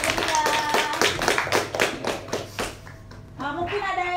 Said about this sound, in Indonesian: tepuk tangan dulu untuk kelompok Dinda